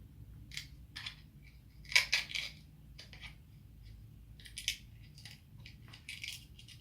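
Paper seal over the product in a jar of Vilain hair pomade being pierced and torn, giving a run of scattered crisp crackling and ripping bursts, loudest around the middle, with a low background hum.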